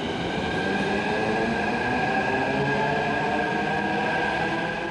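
A Hyderabad Metro train runs between Miyapur and Kukatpally with a steady, loud rolling rumble and a faint rail whine, continuous and unbroken throughout.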